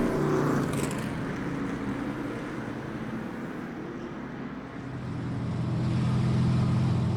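Street stock race cars roll in a pack behind the pace car at Boomtown Speedway, their engines a steady, loud droning rumble that dips briefly midway and then swells again toward the end, with no voices.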